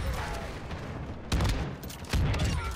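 Gunfire from fire breath rounds in Warzone 2, a steady crackling burst with two louder booming shots standing out, fairly close.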